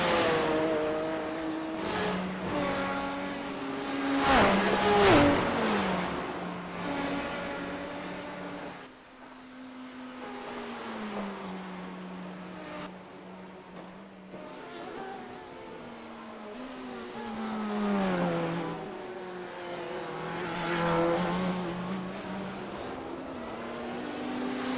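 Sports sedan race cars in a Bathurst racing video game drone and rev continuously, engine pitch rising and falling through gear changes and overlapping cars, steady and fairly loud with no talking.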